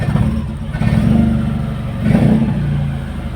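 A misfiring, shaking Mitsubishi 4G63 engine in a Galant GTI idles roughly with a hard-starting problem, two uneven surges in its low rumble standing out over a steady, unsteady running drone, close and fairly loud.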